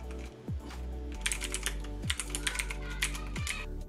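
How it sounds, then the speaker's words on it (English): Typing on a Pauroty 60% wireless mechanical gaming keyboard: bursts of quick, close clacking keystrokes in irregular clusters, with a few pauses between runs and a steady tonal hum underneath. "I'm gonna quickly reposition the camera and type away, you know, just randomly clicking on things"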